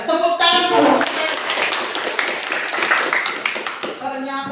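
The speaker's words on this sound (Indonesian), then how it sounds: "Luar biasa. Tepuk tangan dulu." Classroom applause, a burst of clapping hands from a group of students, loud at first and spreading across the room, with voices speaking before and after it.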